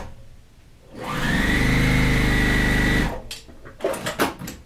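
Sewing machine running a steady continuous seam on a quilt block, loud and even for about two seconds, then stopping, followed by a few handling clicks.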